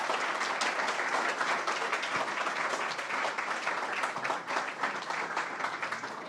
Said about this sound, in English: Jesse O'Brien, thank you very much. Big round of applause.